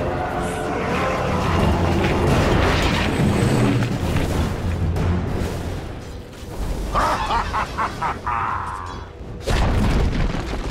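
Heavy booms and explosive bursts as the Dire top tower takes an attack in a Dota 2 match, rumbling steadily with crackling battle effects and sharp impacts throughout.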